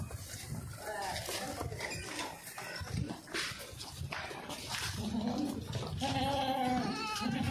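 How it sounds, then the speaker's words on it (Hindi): Goats feeding on a home farm bleat repeatedly and close by, their calls mixed with people talking throughout. "जी बकरियां उस लोशन खा रही हैं जनाब।"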